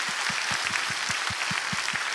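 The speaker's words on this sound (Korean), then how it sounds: "감사와 영광의 박수 한번 올려드리죠" Steady, rhythmic applause from a church congregation during a Sunday worship service, a dense wash of clapping with regular pulsing beats, sustained and moderately loud.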